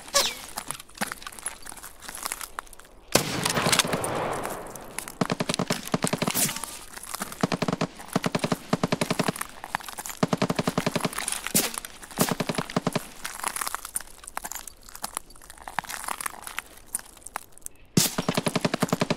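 Gunfire in Escape from Tarkov, including an AKS-74U, comes as rapid automatic bursts and scattered single shots, loud and close, broken by brief pauses across the stretch.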